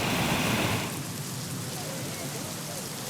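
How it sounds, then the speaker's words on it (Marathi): Heavy rain pouring down in a storm, a soft, dense hiss that is louder for the first second, then settles into a steady, faint wash. "मुसळधार पाऊस कोसळतोय"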